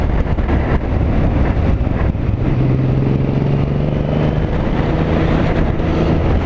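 A Triumph Thunderbird motorcycle engine runs while riding in high gear, a steady low drone with a rising tonal hum, mixed with strong wind buffeting on the microphone and no talking.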